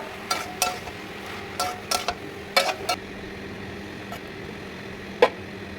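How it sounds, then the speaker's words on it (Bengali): Malabar spinach (pui shak) being stirred in a cooking pan: a few scattered utensil scrapes and clinks against the metal, some in quick pairs, over a quiet background, with one sharper knock near the end. "এভাবে নাড়াচাড়া করতে হবে।"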